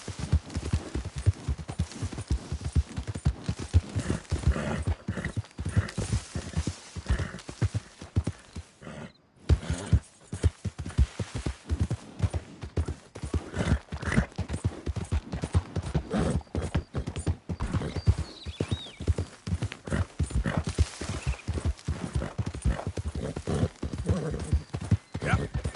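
Horse hooves gallop in Red Dead Redemption 2 with a rapid, steady clip-clop that runs almost the whole time, broken by one brief gap, while voices talk over it.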